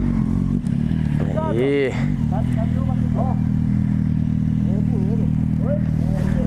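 A motorcycle labours over rough, uneven ground, its engine a steady close drone with clattering jolts. People talk and shout excitedly over the engine.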